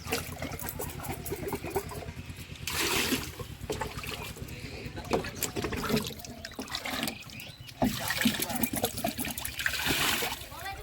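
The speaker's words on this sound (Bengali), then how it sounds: "আমি ধুয়ে নিচ্ছি এইভাবে পরিষ্কার করে মধ্যে জল দিয়ে" Water poured into a freshly cut bamboo tube to rinse and clean it outdoors, giving a steady splashing, trickling wash with brief louder gushes, heard close up under ongoing talk.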